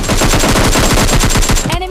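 Rapid automatic gunfire from PUBG Mobile Lite rattles nonstop in a loud, dense burst of close shots, cutting off abruptly near the end.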